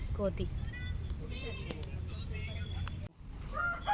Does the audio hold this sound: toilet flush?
no